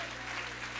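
A church congregation stands and applauds in praise during a worship service, a steady dense clapping from many hands filling the room without pause.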